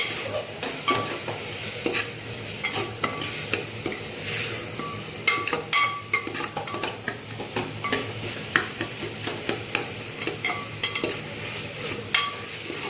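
Steady stirring and scraping of cabbage curry in a pressure cooker pot with a constant sizzle of oil frying underneath, spoon clinks recurring irregularly throughout.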